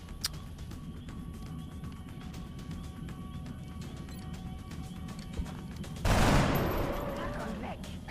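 Gunfire from soldiers in the XCOM: Long War strategy game: a busy bed of game sound, then a loud, sudden burst of shots that rings out and slowly fades near the end.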